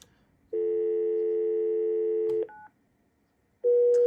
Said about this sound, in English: And then I can dial my number to make an outside call.